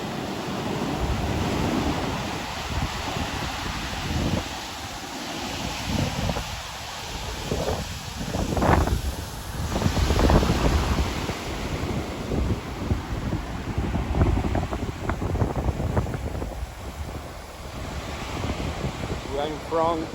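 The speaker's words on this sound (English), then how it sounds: "The waves are really high" Large storm waves pound Cabarete Beach in the Dominican Republic after Hurricane Erin, a steady roaring surf with wind buffeting the microphone and swelling crashes throughout, while a person talks over it.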